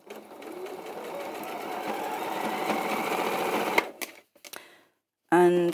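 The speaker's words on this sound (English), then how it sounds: "We're going to sew all the way around." A sewing machine stitches fabric pieces together in a long, steady whir, then stops. A few soft clicks follow, and a short burst of talk comes at the end.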